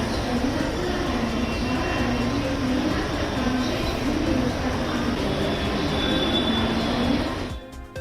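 A Mumbai Metro train runs on the line toward Ghatkopar, giving a loud, steady rumble with a high wheel squeal layered on top. The sound holds evenly for several seconds and then drops off abruptly near the end.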